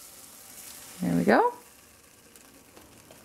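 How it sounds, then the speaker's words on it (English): Zucchini pancake batter sizzling in a hot pan, a soft, steady frying hiss throughout, with a brief spoken remark partway through. "when you put it on, it's almost like it's like gonna sizzle, basically."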